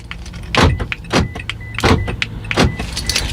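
A 2017 Toyota Camry locks by remote key fob: a close run of mechanical clunks and whirring thuds, roughly four strong pulses over a few seconds, with no talking.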